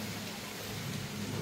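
Heavy rain pouring down steadily near a hilltop temple, a dense, even hiss with a low rumble beneath it and no voices.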